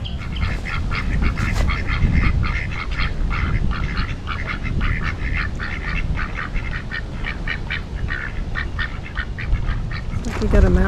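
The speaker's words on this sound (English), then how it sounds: "We got a mallard here taking a bath." Mallard ducks bathing in a park pond give repeated nasal quacks in a steady chattering rhythm over loud low wind rumble, with splashing water noise throughout.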